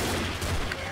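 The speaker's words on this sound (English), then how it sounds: "Man, this is a assault rifle." Assault rifle fire in Left 4 Dead, a dense, continuous rattle of shots packed tightly together, loud and close throughout the brief moment.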